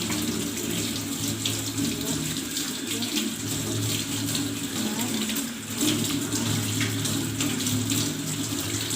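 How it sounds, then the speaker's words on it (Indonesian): Tap water runs steadily and loudly as hands are washed beneath it, a continuous close splashing rush with slight shifts in the flow and no voices. "Mencuci tangan 6 langkah."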